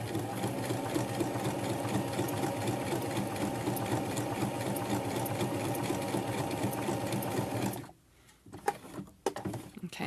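A sewing machine stitches an appliqué onto fabric, running in a steady continuous whir for about eight seconds, then stopping abruptly and giving a few short bursts as the work is turned.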